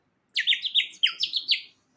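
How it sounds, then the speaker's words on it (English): Close, bright warbling chirps from a little water-filled bird whistle, 3D-printed in Polymaker filament: about eight quick bubbly trills in a single burst lasting just over a second, alone with no talk. "Little bird whistle. You put water in them, you pulsate your lips, suck in and out."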